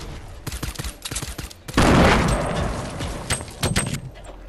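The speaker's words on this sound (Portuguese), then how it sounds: "Ai meu Deus, estão atirando." Rapid bursts of gunfire in the video game Fortnite crackle in clustered volleys, then a louder sustained blast and further scattered shots, with faint voices in the background.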